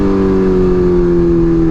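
A Kawasaki Ninja H2 motorcycle engine downshifting on a cold ride, a loud steady drone whose pitch sags slightly over a brief moment, heard close up with no speech.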